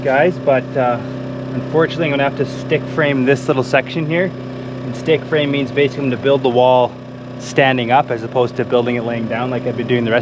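A generator hums steadily at an off-grid home building site in the Yukon, a low constant drone that stays under someone talking almost the whole time.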